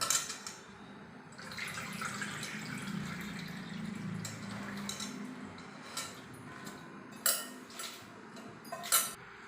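Running water splashes steadily while a vegetable is rinsed by hand, with a few sharper clinks and splashes near the end.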